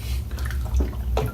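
Water drips onto a West Coast shaving brush loaded with Wriggly Tin Vanilla Patchouli soap, a few soft wet taps and splashes over a low steady background hum.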